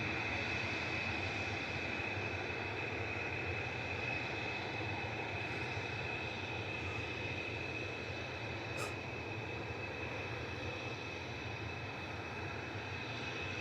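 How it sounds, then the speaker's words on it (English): A TUI Boeing 737-800 jet lines up for departure to Verona at Manchester Airport, a steady, moderate engine drone with a thin constant whine running throughout, alone without talk. "GTAWH for TUI going next with flight 26282 to Verona"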